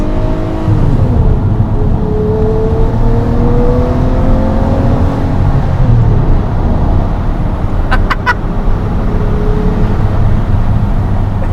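A Lamborghini Murcielago SV accelerates hard through the gears, its engine note climbing and shifting in a loud, close, continuous roar heard from inside the car.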